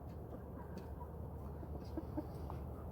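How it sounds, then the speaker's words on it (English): Several chickens cluck softly and steadily in a coop at night, close by over a constant low background hum, with no talking. "Good night, little science chickens."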